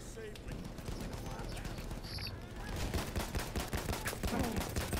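Semi-automatic scoped sniper rifle in Battlefield 1 firing a rapid run of sharp repeated shots that grow louder toward the end, with a person talking underneath.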